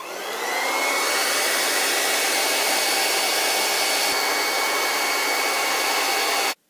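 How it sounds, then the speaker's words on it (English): A blow dryer runs on its cold setting to dry a glued-down full lace wig, a steady loud whooshing airflow that holds evenly for several seconds, then cuts off abruptly at the end. "you can take the blow dryer again and just go on the cold setting again and just blow dry it"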